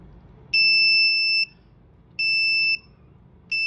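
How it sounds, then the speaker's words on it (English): A buzzer driven by a 555 timer alarm circuit with a 2N2222 transistor sounds three loud, shrill electronic tones, each about a second long, separated by short gaps of quiet hiss. "there's a very loud and annoying buzzer"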